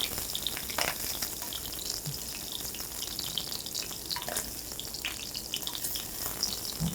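Food sizzles and crackles steadily in a hot pan, a soft continuous frying hiss with scattered pops and no voices.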